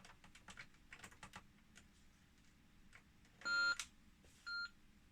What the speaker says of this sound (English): You can hear it slightly louder beep.